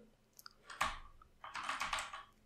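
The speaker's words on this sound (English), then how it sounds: "after typing the password press enter" Faint scattered clicks give way to a short flurry of keyboard typing, quiet and close, with no voices.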